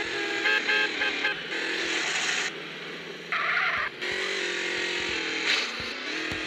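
Motorcycle engine revving during a stunt-filled escape ride, with loud, up-and-down throttle bursts and brief cuts in a close, harsh mechanical drone.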